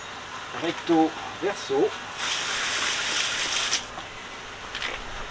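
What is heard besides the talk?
rinsing a wheel rim with water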